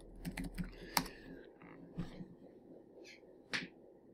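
Computer keyboard typing, a handful of scattered light key taps and clicks at uneven intervals, close but very quiet against faint room noise, with no speech.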